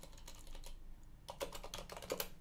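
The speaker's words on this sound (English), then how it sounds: "when you type Control T and sudo pacman" Quick, quiet keystrokes on a computer keyboard as a terminal command is entered on an Arch-based Linux system, a steady run of close clicks with a brief pause midway.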